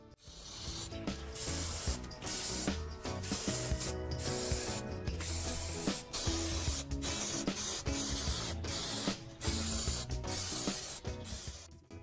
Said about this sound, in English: spray paint along the rim and inside edge as well